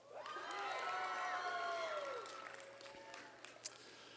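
A commencement crowd at a graduation ceremony gives one more cheer: a swelling wash of shouts, whoops and applause that peaks, then fades into scattered claps and calls, heard from a distance.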